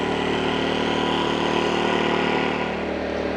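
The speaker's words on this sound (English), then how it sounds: "So far seems to be pretty quiet for a little small generator" A small Power Smart 2500 watt inverter generator runs steadily with eco mode off, a constant close engine drone with a slight dip in pitch near the end and no talking.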